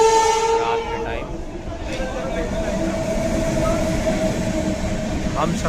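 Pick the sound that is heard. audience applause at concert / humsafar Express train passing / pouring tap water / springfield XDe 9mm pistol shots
humsafar Express train passing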